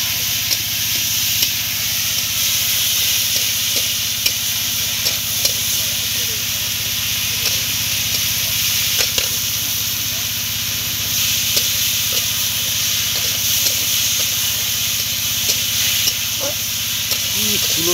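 A wood-fired stove burns strongly during outdoor cooking at Dublar Char, with a constant loud hiss and crackle of fire and sizzling food throughout, under occasional background voices.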